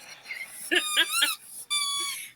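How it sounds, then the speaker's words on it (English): A dog plays with a squeaky toy, producing a quick run of high, shrill squeaks, then one longer squeak after a short pause, all fairly quiet and close. "My dog has just found a squeaky toy, and she's decided that she's adding to the drama of the moment with it."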